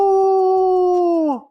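A single sustained, steady howl, loud and close, holding one tone for over a second before sliding down and fading out, with no other sounds around it.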